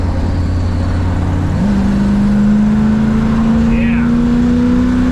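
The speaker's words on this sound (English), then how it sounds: "The EFI actually sounds like a belt squeal slightly." A Plymouth Fury engine with EFI hums steadily at close range, its drone rising slightly in pitch partway through, with a faint high whine like a slight belt squeal.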